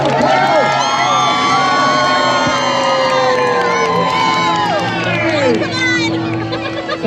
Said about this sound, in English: Once he hits these posts here, I want to start hearing some cheers!